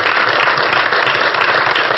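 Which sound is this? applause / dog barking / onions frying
applause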